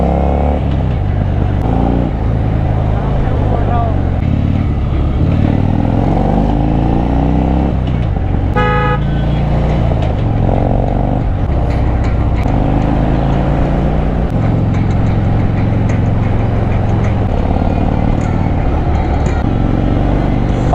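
A Harley-Davidson Fat Bob Dyna motorcycle cruising on the road, its engine droning loud and steady for the whole stretch with wind rush and occasional shifts in pitch.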